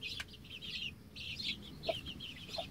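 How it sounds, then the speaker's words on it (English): A broody hen with chicks in a shared coop gives close, repeated soft clucks and murmurs, with a couple of sharper notes near the end, over a low background hum. "she's decided she's got to show that she is dominant"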